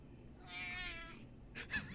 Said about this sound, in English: The bunnies meow, and I'm thoroughly confused.